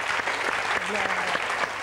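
Studio audience at a French TV quiz show applauding the champion, a steady dense wash of many hands clapping close and loud, with a faint voice briefly talking over it.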